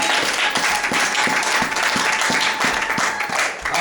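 A congregation at a French-language Sunday church service applauds continuously and loudly, a dense wash of many hands with steady rhythmic beats running through it from start to finish.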